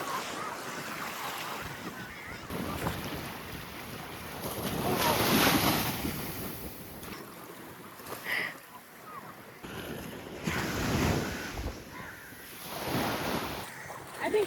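Waves wash onto a sunny beach in Sri Lanka, surging and receding in broad swells mixed with gusty wind noise.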